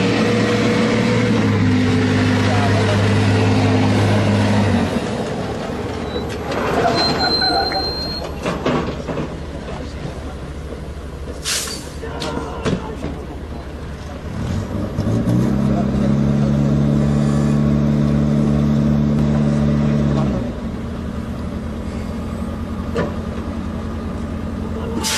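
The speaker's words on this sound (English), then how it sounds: "You will now see the Bofors gun towed by a tow truck called the Scania." A Scania tow truck hauling a Bofors gun: a loud, steady diesel engine drone with pitch shifting as it revs and slows, fading to a lower rumble midway before surging again.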